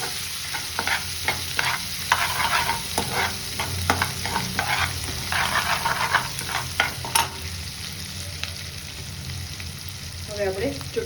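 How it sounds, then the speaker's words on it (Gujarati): Ginger-chili paste sizzles in hot oil with bay leaf, cloves and whole spices, stirred with a series of quick scraping strokes over a steady fry, close and fairly quiet. "1 મિનિટ માટે આપણે સાતળી લઈશું."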